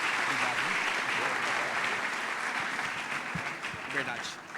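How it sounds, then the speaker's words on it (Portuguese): A church congregation applauding, dense sustained clapping from many people that thins slightly toward the end, with a voice speaking over it. "Aplaude ao Senhor mais uma vez"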